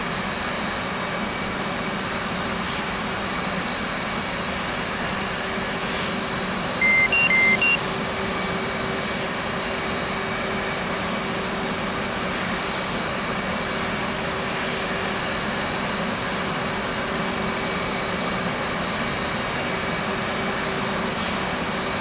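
An F/A-18 jet engine running steadily in a flight simulator game during a cold start, a continuous loud whining drone with a faint hum beneath it and a brief pair of cockpit beeps partway through.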